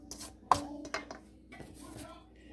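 Zucchini bread batter stirred in a bowl, with a few sharp knocks of the utensil against the side followed by softer scraping and rubbing, close and brief.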